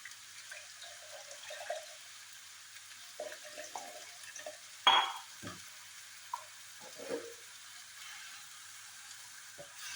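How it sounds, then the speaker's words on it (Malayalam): Water splashes and pours into a pot of bitter gourd curry with ground paste, a brief louder gush midway, followed by soft bubbling and stirring sounds. "വെള്ളം ഒഴിച്ച് കൊടുക്കാം കേട്ടോ"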